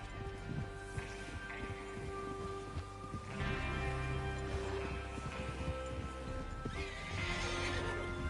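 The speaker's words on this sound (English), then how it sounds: "Get your horses ready." Horses in Red Dead Redemption 2 whinny and neigh several times amid steady clip-clop hooves and rustling movement, a busy close outdoor scene with no talking.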